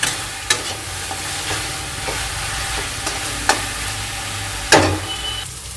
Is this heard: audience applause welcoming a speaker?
no